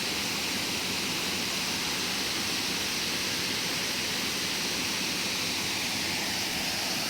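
Water roars steadily at a waterfall, a dense, even wash of rushing noise that stays constant throughout with no voices.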